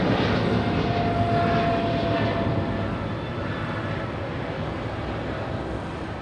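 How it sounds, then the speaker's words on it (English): A Boeing 777 takes off with a broad, roaring jet-engine rumble that stays loud and steady, slowly easing as the aircraft pulls away. "As we get this 777 takeoff."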